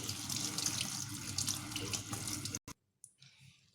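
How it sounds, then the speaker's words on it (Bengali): Radish greens are rinsed under a running kitchen tap, a steady close rush of water that cuts off abruptly, followed by a few faint drips and clinks. "এই জন্য শাককে বেশ ভালোভাবেই ধুয়ে নিতে হয়"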